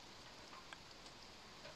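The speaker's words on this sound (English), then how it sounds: "Come on, why do you need to rain?" Light rain falling outdoors at a forge-building site, a soft steady patter hissing evenly throughout with a few faint drops standing out, distant and quiet.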